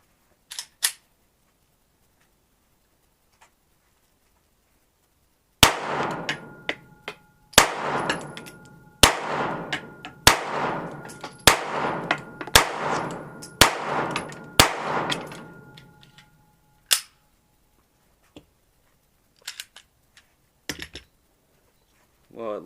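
Smith and Wesson M&P Shield 9mm pistol firing an 8-round magazine outdoors: eight or so sharp, loud shots at a steady pace, each with a clanging ring, then a few scattered clicks and handling noises.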